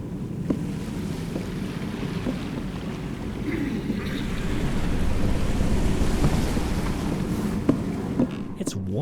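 Wind and a low engine hum from the horror video game Gloomwood, a steady rumbling drone with gusty noise that swells slightly midway, a few faint knocks and creaks scattered through it, no talking.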